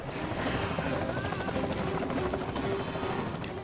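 A helicopter flies overhead in the Alone in the Dark video game, its rotor a continuous loud chopping throb throughout.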